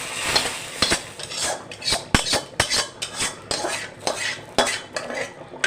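Fried onions scraped and tipped from a pan into a pot, a series of sharp metallic clinks and scrapes of utensil on cookware at an uneven rhythm, close and fairly quiet.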